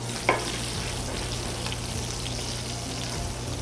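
Shishito peppers searing in a hot pan with a steady, close sizzle and one brief clatter near the start, no talking heard.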